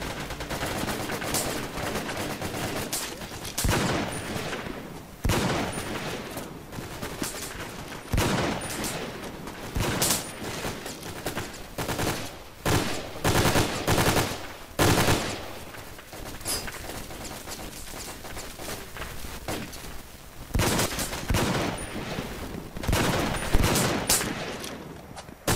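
Gunfire rings out in the video game Brain Out: repeated bursts of automatic fire and single shots in irregular clusters, loud and close, with brief pauses between volleys throughout.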